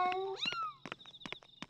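Cats meow in the video game Yomawari: Midnight Shadows, a rising and falling cry followed by a run of short chirpy game sound effects, clear and close with no speech.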